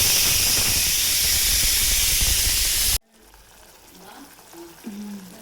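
Vegetable gravy cooking in a pan for dinner in a home kitchen gives a loud, steady hiss and sizzle for about three seconds, then cuts off abruptly to a quiet room with faint clinks and soft background noise.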